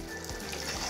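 Chicken fries in a pressure cooker with onion-tomato gravy for a Marathi-style dish, giving a steady close sizzle with brief stirring scrapes.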